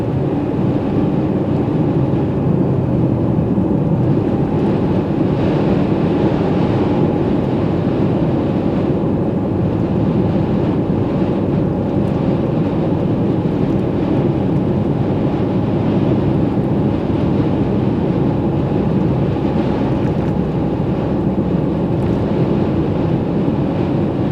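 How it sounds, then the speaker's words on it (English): Strong, constant wind roars and buffets the microphone for the whole stretch along the Big Sur marathon course, a steady dense rumble with no pauses. "Pretty windy stretch through here."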